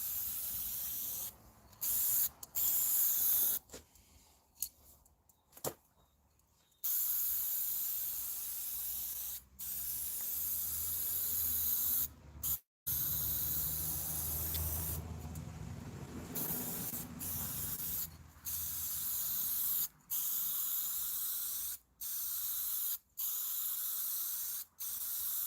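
Paint sprayed in a coat, a loud, close continuous spray hiss in long bursts broken by brief stops, with no talk.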